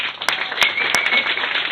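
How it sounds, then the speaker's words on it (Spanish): An audience claps for commentator Andrés Varela Enríquez at a book presentation. The applause is loud and close for under two seconds, with a few sharp individual claps standing out. "Un aplauso para él."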